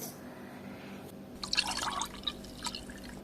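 Milk poured into a dish for a colourful food colouring experiment, a short close liquid splash and trickle after a quiet start.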